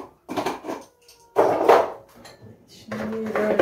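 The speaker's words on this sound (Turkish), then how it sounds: "Şimdi böyle iyice karıştıracağım sosunu" A spoon scrapes and clinks around a bowl while stirring a chicken marinade sauce with spices, in three separate bursts of clattering with brief quiet pauses between.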